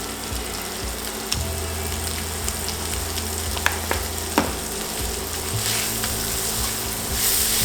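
Food seasoned with salt and pepper frying in a pan, a constant loud close sizzle with scattered clicks and scrapes of a utensil stirring, no talk.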